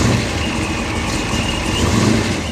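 A 725-horsepower Ford Mustang Eleanor muscle car engine idles with a loud, steady, deep rumble that holds throughout, swelling slightly near the end, with no talk over it.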